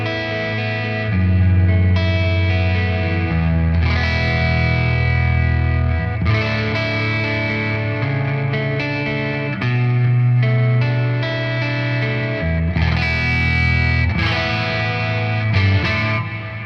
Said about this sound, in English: There's a lot of reverb there.